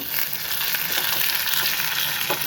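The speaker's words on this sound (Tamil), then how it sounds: "நல்லா பொரியட்டும்" Onion and chili frying in hot oil give a steady close sizzle with crackling pops, continuous and fairly loud, with no voices.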